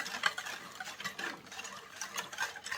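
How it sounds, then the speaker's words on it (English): A spoon stirs a pot of Easter food mixture, quiet scraping and clinking strokes repeating close up in an uneven rhythm for a few seconds without talk. "I'm going to give it a quick stir"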